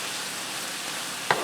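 Garlic fries in a skillet for beef stroganoff, making a steady, even sizzle that ends with a single brief scrape of stirring.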